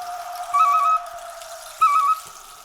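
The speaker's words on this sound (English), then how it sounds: "what we can also add is a flute." Native American flute holding a steady high tone, with two brief louder swells, set against a faint forest backdrop.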